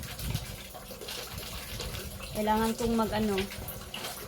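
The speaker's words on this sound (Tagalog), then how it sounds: "Hina ng tubig namin dito." A weak household tap runs steadily, a thin, even rush of water with a brief louder surge partway through, while a person talks over it.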